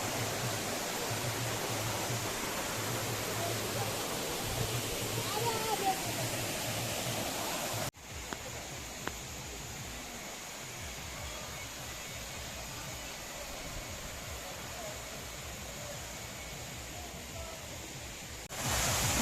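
Dasingbadi waterfall in Odisha roars as a steady broadband rush of falling water, loud and continuous, with a brief drop in level partway through before the full torrent returns.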